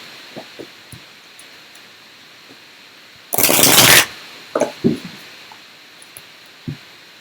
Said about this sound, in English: Just going to start by pulling some of the tarot cards.